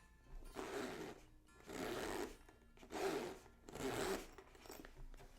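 A child's well-used lunchbox zipper is pulled back and forth four times in a steady rhythm, each close, raspy zip separated by a brief pause, with nothing else sounding.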